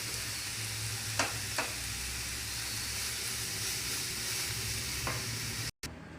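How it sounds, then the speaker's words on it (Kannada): Medium semolina (rava) sizzles and is stirred in a pan, a steady frying hiss with a few faint clinks of the spoon. "ಮೀಡಿಯಮ್ ರವೆ ಇದು ಹಾಕ್ಕೊಂಡು ಫ್ರೈ ಮಾಡಬೇಕು"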